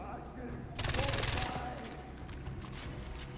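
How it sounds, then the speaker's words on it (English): Gunfire and explosions from the Far Cry 4 video game: a dense burst of rapid shots mid-clip over a continuous roar of game noise, moderately loud throughout. "Full on massive explosions and bullets everywhere."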